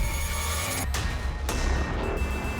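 A mobile phone ringtone sounds, a steady electronic ringing tone that cuts out briefly twice before resuming, fairly loud and alone with no talk.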